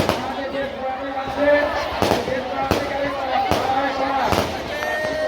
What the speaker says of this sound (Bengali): তারপরে বাতাসা বৃষ্টির পরে শেষে শুরু হলো আতশবাজি।